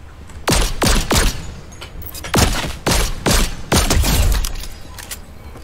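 An auto aim pistol in Fortnite fires sharp, loud shots, some in quick pairs and others in short bursts, with pauses between them. There is no talk.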